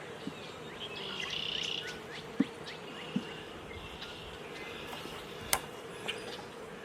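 Honey bees humming over hive frames during an inspection, a soft continuous buzz with occasional louder passes and a few light clicks from handling, close by.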